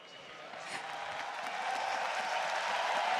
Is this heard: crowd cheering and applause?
yes